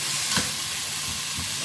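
A pan sizzles steadily while ingredients with tomato are stirred for squid adobo (adobong pusit), with a loud, constant frying hiss and a few brief scraping strokes of the utensil.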